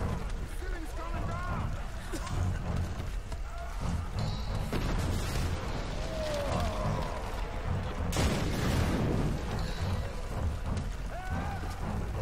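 Loud, dense rumbling booms and crashing blasts from explosions in the video game Tomb Raider roll continuously, with a voice talking over the din.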